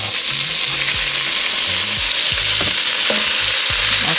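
Onions fry in butter in a pot for French onion beef short rib soup, a loud, continuous sizzle broken by repeated scraping stirs and clinks of a spoon against the pot.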